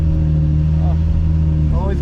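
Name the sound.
Lamborghini Murcielago driving, muffler delete exhaust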